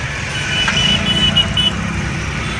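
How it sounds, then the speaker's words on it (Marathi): Vehicles stuck in a traffic jam in Parbhani: a steady low engine idle rumbles close by while a thin electronic beep pulses briefly overhead. "ट्रॅफिक काय जाम झाली, नुसतं जिकडं तिकडं गाड्या दिसायला, नुसत्या गाड्याच गाड्या"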